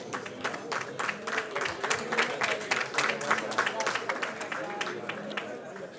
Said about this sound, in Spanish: otra vez un fuerte aplauso para la asociación, que hemos llegado a 800 miembros